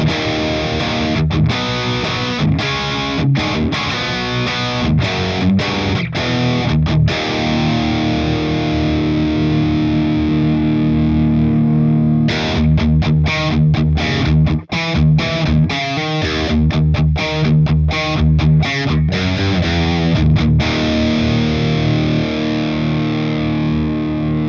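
A Crate GFX 1200H guitar amplifier head played with heavy distortion and effects, producing a loud, dense, noisy buzzing guitar tone with repeated chugging strums and a brief break midway.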